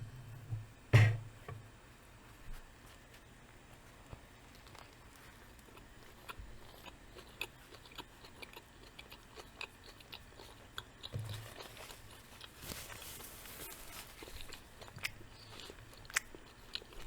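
Close, soft chewing and biting of a Swiss cheese and mustard sandwich, with faint crunches and mouth sounds in quiet surroundings and no talk.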